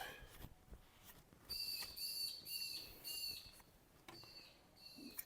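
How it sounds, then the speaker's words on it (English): Australian birds call outdoors: faint, high whistled calls repeat several times over a soft background hiss, distant and with no one talking. "Australian birds."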